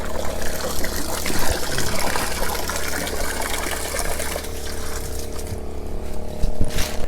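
Water from a well pump rushes through a hose in a steady, loud gushing flow that continues throughout, with slight changes in tone near the end.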